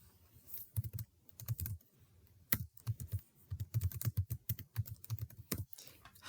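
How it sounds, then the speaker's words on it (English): Computer keyboard keys are struck in quick irregular bursts, each press a crisp close click, runs of typing broken by short pauses and one heavier keystroke, with no talking. "hit slash on your keyboard"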